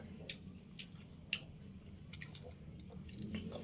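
Someone chewing crunchy dried danggit fish, quiet close-up crunches and squishy bites spaced irregularly over a soft background.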